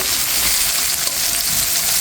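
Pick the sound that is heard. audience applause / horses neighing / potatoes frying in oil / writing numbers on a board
potatoes frying in oil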